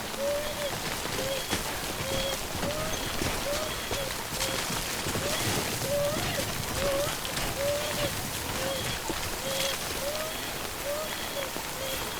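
Steady rain hisses across the whole stretch in the video game Death Stranding, a dense wash of falling drops with a faint repeating chirp drifting above it.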